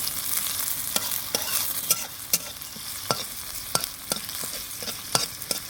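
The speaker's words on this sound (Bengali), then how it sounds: "কচু ঘাটে চালানি দিলাম, চালানিটাকে আমি ভেজে নিই।" Chopped onion frying in oil in a wok with cumin seeds and bay leaf, an ongoing sizzle punctuated by regular sharp scrapes of a spatula being stirred, close and with no talk.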